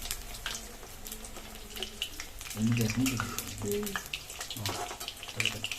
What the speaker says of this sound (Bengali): আমাদের এখানটা ভাজাটা হচ্ছে ফ্রাইটা করে নিচ্ছি আগে তারপর আমরা দুধে দিয়ে দেবো